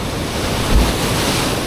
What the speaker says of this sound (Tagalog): Lakas ng alon talaga.